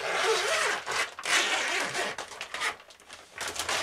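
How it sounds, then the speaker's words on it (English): Front zipper of a DuPont Tychem F CBRN protective suit being pulled open, a close, loud rasping zip in several drawn-out strokes with brief pauses, crinkling suit material between pulls. "So let's unzip that."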